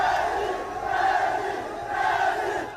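Large crowd gathering outside Ousmane Sonko's home, a dense swelling roar of many voices chanting and shouting at a distance, rising and falling in waves.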